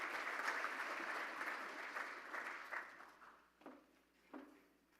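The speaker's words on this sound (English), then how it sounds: "Give them applause." Applause from attendees at a Rotary Club of Tulsa holiday meeting, fairly quiet and moderately dense at first, thinning out and fading into a few scattered last claps.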